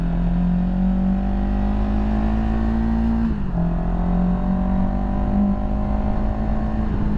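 A 2023 CFMoto 700CL-X Sport motorcycle engine droning loud and close, steady revs climbing gradually, dipping briefly at a gear change, then climbing again under constant wind rush.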